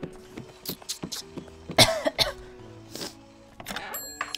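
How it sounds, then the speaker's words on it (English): A person coughs repeatedly during a live stream, a series of short sharp bursts scattered across the span, close and fairly loud over faint background tones. "I'm gonna be coughing a lot."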